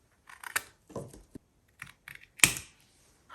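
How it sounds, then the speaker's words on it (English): Scissors snip the corners off a paper tag made from junk mail collage fodder, a handful of short crisp cuts spaced apart, close and fairly quiet, with no talking. "So I will cut the corners."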